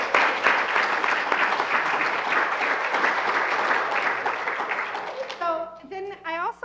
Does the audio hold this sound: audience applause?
yes